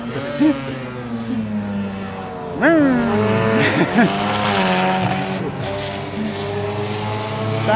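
A Mini Se7en race car missing its whole exhaust passes at Silverstone during round 13, a loud raw engine note rising and swooping in pitch as it approaches and goes by, with a commentator talking over it.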